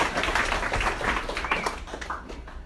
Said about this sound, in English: so start clapping